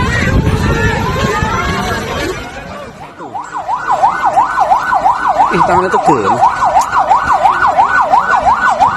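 A wailing ambulance siren cycles up and down steadily, loud and close, after a stretch of crowd chatter and voices, at the scene of a collapsed terrace roof at the Brebes regency office in Indonesia.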